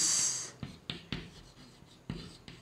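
A pen or chalk strikes and scratches across a board during a chemistry lesson, several short sharp taps spaced irregularly, close and fairly loud, with no talking.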